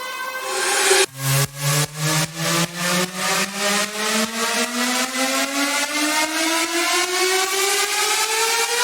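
A synthetic build riser sweeps steadily upward in pitch, pulsing in a fast rhythmic chop that speeds up over several seconds, loud and alone.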